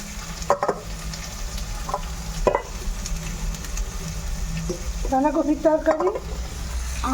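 Onion and garlic frying in a pan, a low continuous sizzle with several clattering stirs and scrapes of the spatula, growing busier toward the end.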